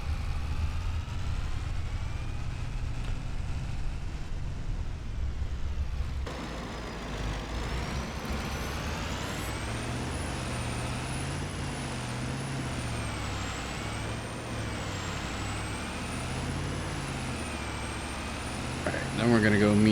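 A truck rolls by in the Farming Simulator 25 video game with a low droning engine and a rising, wavering whine, heard steadily throughout alongside other game engine noise, with a voice talking over it.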